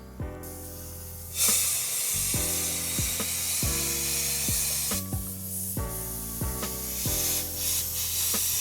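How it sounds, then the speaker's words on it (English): A spray gun applies clear coat to YZ125 engine parts in repeated bursts of hissing spray, each a second or so long, alternating with brief pauses and low humming tones in between. "we're ready to spray some clear"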